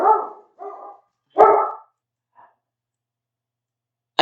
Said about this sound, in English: My dog is barking because the guys are making a lot of noise in the garage.